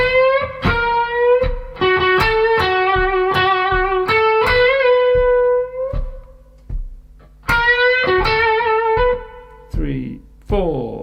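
Electric guitar plays a solo slowly, clean plucked notes with bends and short rests between phrases, close and fairly loud, with a brief voice near the end.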